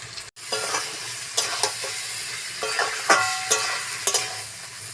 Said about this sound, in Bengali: ম্যারিনেট করে চিকেনটা এবার আমি মশলার মধ্যে ঢেলে দেব